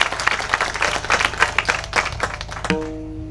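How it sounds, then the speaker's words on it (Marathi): Audience at a Marathi kirtan clapping together, a dense steady wash of hand claps for nearly three seconds that stops abruptly, leaving a faint tonal hum. "थोडा मोठ्यांदा टाळ्या वाजवल्या तर बरं होईल"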